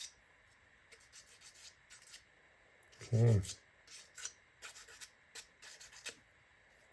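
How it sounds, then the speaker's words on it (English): Thin wooden parts for a cello model get lightly sanded in short, quiet rubbing strokes that repeat irregularly up close, with a brief spoken word in the middle. "Very light sanding, it's very thin"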